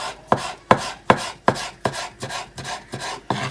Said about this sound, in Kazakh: Алдымен өте мелкий қылып капустамызды турап аламыз.